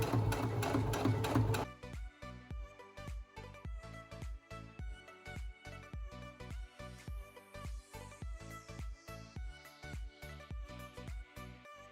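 Sewing machine stitching Halloween costume fabric about half a centimetre from the edge, running in a steady rapid mechanical rhythm close by after a brief louder start, with no talk.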